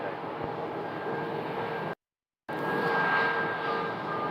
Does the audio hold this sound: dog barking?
no